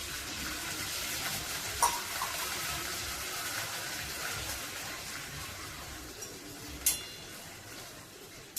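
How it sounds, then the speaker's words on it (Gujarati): Water is poured into a pan of moong dal dhokla tempering with whole green chillies and curry leaves, making a soft, continuous splashing wash with a couple of brief clinks. "થોડુંક પાણી ઉમેરશું."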